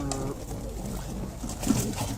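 Pigeons at a breeding loft, including teddy and blue birds, coo in low soft rumbles across the short stretch, close and fairly steady with a slightly stronger call near the end.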